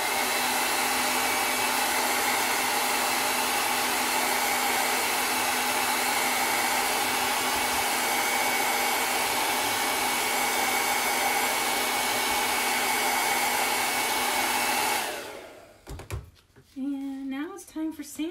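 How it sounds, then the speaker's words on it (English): Handheld blow dryer drying a transfer on a Christmas stocking, a steady loud whirring blast that runs unbroken for about fifteen seconds before cutting off, followed by brief handling noises. "I'm gonna put the blow dryer on this to dry it a little bit."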